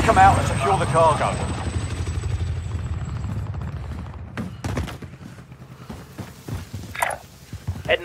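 Supply helicopters in the video game Modern Warfare rumble with a loud, steady rotor drone that fades after a few seconds into scattered footsteps and sharp bursts. A voice talks over the noise.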